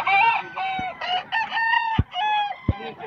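A young gamecock stag crows repeatedly at a Bocaue market, its harmonic calls loud and close, broken by a few sharp knocks, with no talking.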